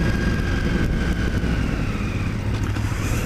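A KTM 990 Adventure motorcycle engine pulling hard under acceleration, a loud, continuous, aggressive roar with wind noise, heard close from the rider's position.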